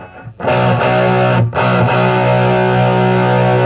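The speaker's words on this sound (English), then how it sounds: "you'll get that same wonderful huge distortion chord sound, but it's going to be really crisp" A loud, heavily distorted chord on a Fretlight FG-400/500 electric guitar rings out, briefly cut off and struck again, then sustained with a thick, buzzing tone.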